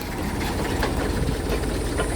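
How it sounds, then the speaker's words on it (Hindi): A tractor engine runs steadily at close range, a continuous low rumbling drone with a slight knocking texture and no pauses, heard on its own without talk. "तो दोस्तों अब देखें ट्रैक्टर अब बढ़ रहा है"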